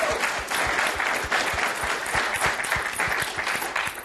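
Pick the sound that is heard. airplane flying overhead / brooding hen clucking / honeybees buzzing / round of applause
round of applause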